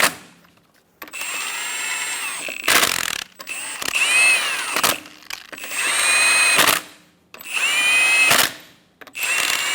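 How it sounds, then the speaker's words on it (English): Repeated bursts of an impact-style power tool snugging down the lug nuts on the rear wheel of a 2014-2018 Chevrolet Silverado 1500 during a brake job, several whirring, ratcheting runs separated by short pauses. "Snug the lug nuts down"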